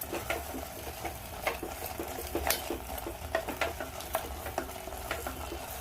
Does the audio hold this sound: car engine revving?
no